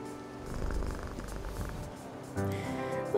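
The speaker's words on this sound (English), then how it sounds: "The little purring sound." A cat purrs in the game A Space for the Unbound, a soft continuous rumble that carries on close and alone for a few seconds.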